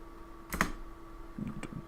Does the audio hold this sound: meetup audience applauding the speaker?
no